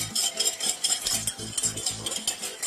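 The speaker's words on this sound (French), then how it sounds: "tu fouettes pendant une petite minute" Salt whisked into vinegar in a bowl for a quinoa vinaigrette: quick, rhythmic metallic scraping strokes, close and steady for a few seconds with no talking.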